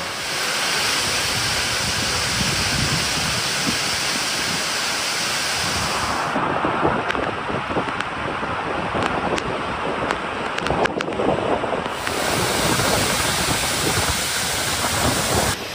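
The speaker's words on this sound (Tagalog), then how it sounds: "ma-enjoy ang malamig at preskong tubig na dala ng talon na may taas na 75 talampakan" A 75-foot waterfall pours steadily in a broad, continuous rush of falling water, loud and close with no break, while a breezy hiss rises and falls over the roar.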